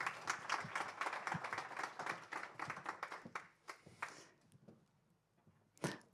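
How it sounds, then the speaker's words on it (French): A conference audience claps for speakers being welcomed on stage, a fairly quiet, close patter of individual claps that fades out after about four seconds, followed by a few scattered late claps. "On peut les applaudir."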